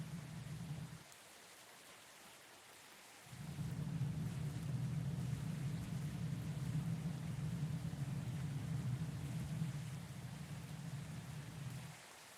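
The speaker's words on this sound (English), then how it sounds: "Now it's raining." Steady rain hiss in the Captain of Industry colony-building game, starting after a quiet gap, holding loud and even for about nine seconds, then dropping off near the end; no voices.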